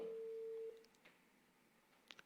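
A telephone call tone played over loudspeakers at a meeting, a single steady electronic tone held for under a second and then cut off, followed by faint room noise and a couple of small clicks.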